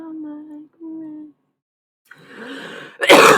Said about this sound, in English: I'm trying to cough out all the allergies lately, y'all.